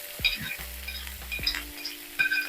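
Ginger, green chillies and dried red chillies, added after mustard seeds and fenugreek, sizzle while being stirred in hot oil, with bursts of close crackling frying and the scrape and clink of a spoon against the pan.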